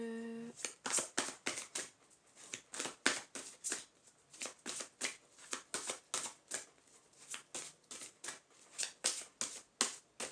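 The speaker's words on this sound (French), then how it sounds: "Je vais prendre la dernière carte." A card deck is shuffled and riffled with a long run of quick, crisp card flicks and snaps at an even rhythm, close up, with no talking.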